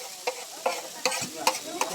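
Chow mein sizzles in a hot pan as it is tossed and stirred, with about five quick, evenly spaced scraping strokes over a soft frying hiss.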